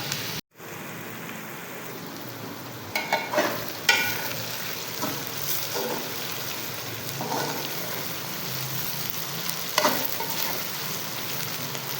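Onions softening in oil in a pan for a Pakistani karela gosht, a quiet steady sizzle with a few scraping stirs and clinks of a spoon, faint and without talk.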